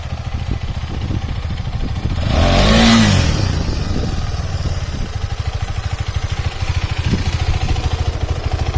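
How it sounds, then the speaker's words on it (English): A KTM 390 Adventure motorcycle engine revs loud and close with its rear wheel spinning, one sharp rising rev peaking early, then a steady rapid thrumming drone with a clattery edge. "I'm trying to turn the bike while spinning the rear wheel"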